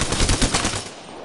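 Rapid gunfire from a squad-based shooter video game crackles in a dense, loud burst that thins out after about a second.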